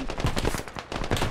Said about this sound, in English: Help me, he's shooting me.